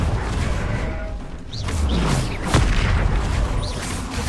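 Confringo fire spell from Hogwarts Legacy, heard as booming, crackling blasts with whooshing streaks layered over dense game noise, a sharp burst near the middle standing out among several rumbling impacts.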